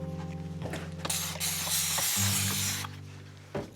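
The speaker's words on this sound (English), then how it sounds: "A little bit of Dawn Power Wash. It's a nice light degreaser." Dawn Power Wash degreaser sprayed onto a sealed, lubed part of a Trek bicycle, a broad hissing burst in the middle of the clip over a steady background hum, with small clicks before and after.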